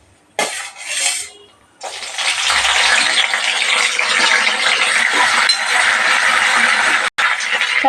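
Green chillies and curry leaves dropped into hot oil in a kadai, setting off a loud, steady sizzle and crackle that runs for several seconds after a brief clatter at the start, with no talking.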